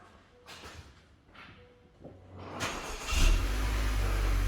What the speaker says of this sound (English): go ahead, start the car